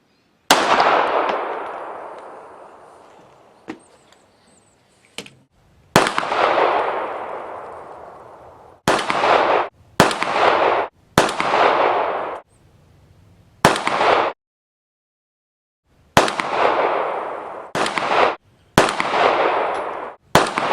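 Sharp, loud gunshots from 32 French Long cartridges ring out one at a time, spaced irregularly with decaying echoes and short silences between shots.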